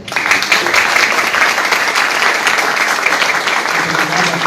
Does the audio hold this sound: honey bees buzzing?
no